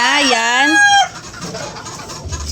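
A pet rooster crows loudly and close for about a second, its call rising and then breaking off, followed by softer clucking and hen-like murmurs from chickens waiting to be fed.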